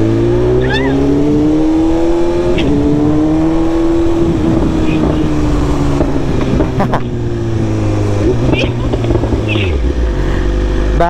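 A big BMW S1 motorcycle engine rumbles and revs while carrying a rider and passenger, pitch rising and falling through gear changes with wind noise, close and loud, as people talk over it.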